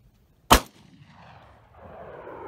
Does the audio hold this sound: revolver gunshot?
yes